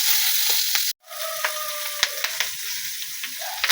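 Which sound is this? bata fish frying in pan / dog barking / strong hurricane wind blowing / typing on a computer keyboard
bata fish frying in pan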